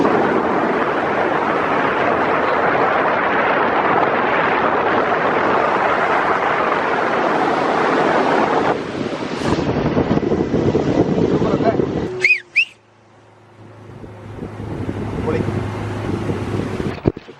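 Steady engine drone and rushing wind of a motorboat on Kakkayam Dam reservoir in Kozhikode, loud and continuous, briefly interrupted before the engine hum settles lower.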